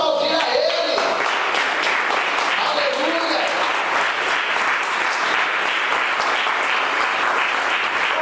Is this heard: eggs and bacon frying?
no